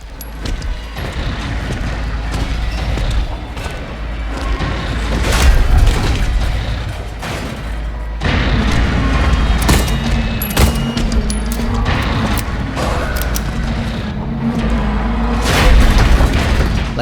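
Loud booming gunshots fired at Pyramid Head in the Silent Hill 2 remake ring out irregularly across a long stretch, over heavy rumbling ambience and no voices.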